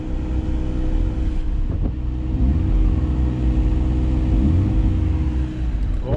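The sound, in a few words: Mazda RX8 engine revving with new coils and spark plugs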